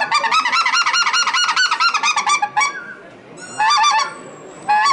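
An American goose call, a very light hunting call, is blown close by in loud rapid honking runs, then a pause and two more short bursts of honks.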